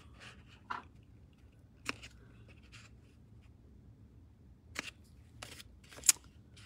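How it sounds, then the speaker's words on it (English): Large scissors snipping, a few sharp, close cuts at irregular intervals over a quiet background, with faint handling noise between them. "The big mama scissors."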